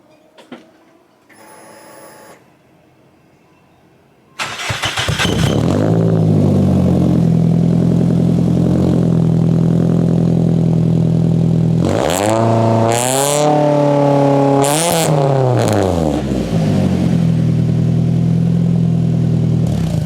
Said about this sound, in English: we're going to start it and then rev it up